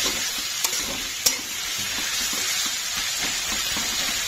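Onions and garlic frying in a pan while being stirred, a loud close sizzle with scraping strokes and a couple of sharp clicks of a spoon against the pan.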